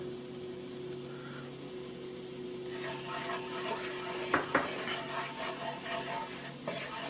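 Flour being stirred into drained grease in a pan to make a light roux, a soft scraping and sizzling stir with a steady hum underneath and a few sharp utensil clinks near the end.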